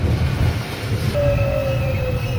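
Seoul Line 1 electric train bound for Yeoncheon pulling into the station, a loud steady rumble of wheels and motors with a rising then sustained high whine midway through.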